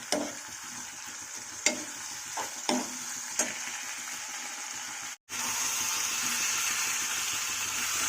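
Boiled baby potatoes being stir-fried in a pan for aloo dum, a steady sizzle broken by a few sharp stirring scrapes and a brief gap, then a louder continuous frying hiss, nobody talking.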